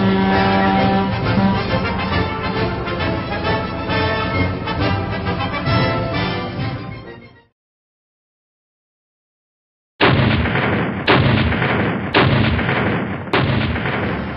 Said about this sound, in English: Sally's gunnery crews demonstrate to Army and Air Force observers they do indeed have what it takes to hit more than the broadside of a barn